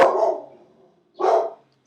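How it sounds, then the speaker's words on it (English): A dog outdoors gives two loud, close barks about a second apart, each with a short fading tail, with quiet between them. "There's a dog walking by."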